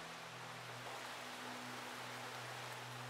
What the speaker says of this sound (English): Why does it sound like the rain's coming from this cupboard?